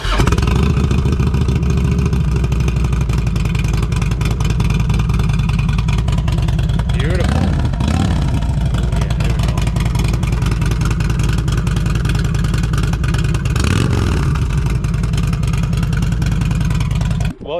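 A 2006 Harley-Davidson Electra Glide Classic V-twin with a Vance and Hines slip-on exhaust, baffles removed, idles loud and close with a lumpy rumble, then is revved hard twice in rising, falling blips before settling back to idle.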